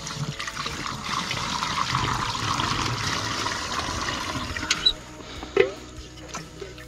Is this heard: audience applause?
no